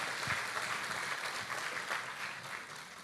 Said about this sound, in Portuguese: Dá uma salva de palmas aqui para os nossos,